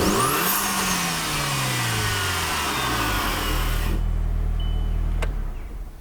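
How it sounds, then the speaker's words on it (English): VW Golf GTi fitted with an Evolution Motorsports V Flow induction kit revs up with a rising intake whoosh and falls back, then settles to a steady idle, close and loud with no talking. "There's going to be a whole lot more induction noise in general"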